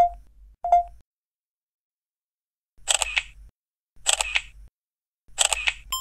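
Two brief electronic beeps, then three separate shutter clicks from a Samsung Galaxy Camera spaced about a second apart, crisp and close.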